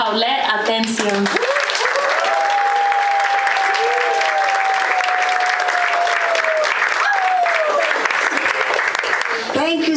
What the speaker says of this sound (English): Let us give a round of applause to our master storyteller, Paulette Atencio.